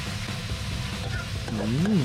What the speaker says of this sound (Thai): หลังจากนั้นเราก็ผัดคลุกเคล้าให้เข้ากัน บี้มะเขือออกหน่อยนะครับ